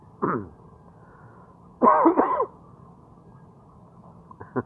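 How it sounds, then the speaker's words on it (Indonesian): A short cough, then a louder double cough a moment later, close to the mic, with quiet background hum and a faint sound at the end. "Batuk."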